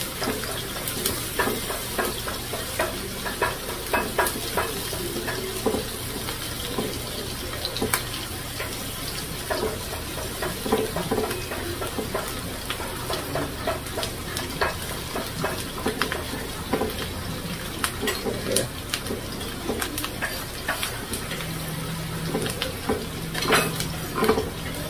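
Onions frying in a pan with a steady crackling sizzle, punctuated by scraping and clinking of a utensil against the pan throughout, with no talking.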